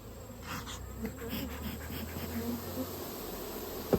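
Honey bees swarm around an open hive in Spencer County, a dense continuous buzz that hums steadily near and far, with a faint voice murmuring underneath and a brief knock at the end.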